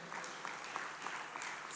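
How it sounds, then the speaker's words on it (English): Faint, distant applause from the audience at an ESOFT graduation ceremony, scattered hand claps washing through a large hall for a couple of seconds, quiet and thin. "give them a better round of applause"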